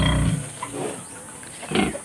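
Farm pigs squeal and grunt loudly before feeding, with a harsh burst at the start and another near the end, close by and without talk.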